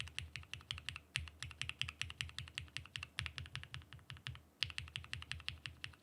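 Rapid typing on a Mode SixtyFive keyboard fitted with POM switches and a POM plate, a steady run of close, crisp clacky keystrokes with a brief pause mid-way, no voices.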